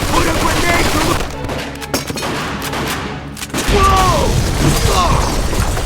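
Machine gun fire in the Mafia II video game comes as dense rapid bursts of shots with mechanical clatter, loud and close, with a short lull before a renewed volley and game voices mixed in.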